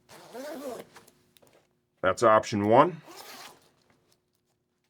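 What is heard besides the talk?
zipper of motorcycle jacket vent being opened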